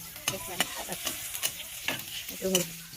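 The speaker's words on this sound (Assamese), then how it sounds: "এইটো মছলা ভাজি আছোঁ" Masala spices sizzle in a pan with onions as a utensil stirs, giving sharp intermittent scrapes and clicks over a steady frying hiss.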